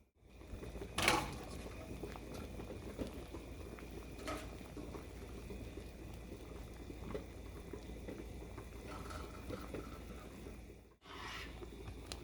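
A pot of cornmeal dumplings, yam and sweet potatoes boiling on the stove, giving a soft steady bubbling hiss with a few brief clanks of cookware and no speech.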